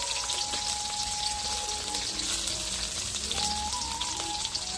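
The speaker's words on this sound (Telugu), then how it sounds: "ఎర్రగడ్డలు వేస్తున్నా. పచ్చిమిరపకాయలు కానీ వేస్తాను అన్నీ." Onions and green chillies fry in hot oil in a pan for Rayalaseema-style uggani, giving a continuous close sizzle and crackle with faint kitchen clinks.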